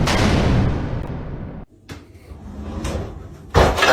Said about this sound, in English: See, now the drawers opening up.